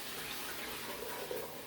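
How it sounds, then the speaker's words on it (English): Tap water drawn from a sink is poured into a cooking pot for boiling brine, giving a soft, steady liquid rush that stays fairly quiet and even throughout. "I'm just going to pour this into my pot to get it boiling."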